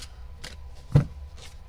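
Tarot cards being shuffled, with several short riffling bursts spaced across a quiet moment and one thicker, louder slap near the middle.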